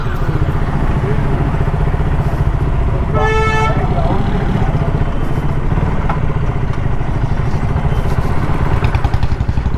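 A vehicle horn gives one clear toot while passing a roadside temple in the Konkan region, sounding over the steady close drone of a moving motorbike engine and road noise.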